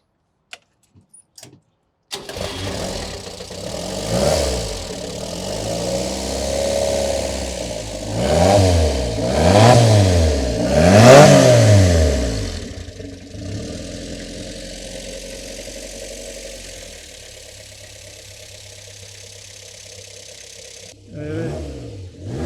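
A Renault Dauphine with its small 1093 engine starts after a few faint clicks, then runs with uneven revving that swells and dips before settling to a steady idle, close by, with a brief burst near the end.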